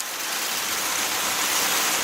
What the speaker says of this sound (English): they're really getting bombarded with the hail